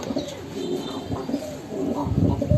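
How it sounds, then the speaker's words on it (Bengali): Giribaz pigeons, a light biscuit-coloured pair, coo steadily and close by in a repeating rhythmic series with low throaty pulses, with no talking over them. "খুব সুন্দর মিলছে কবুতর জোড়াটা"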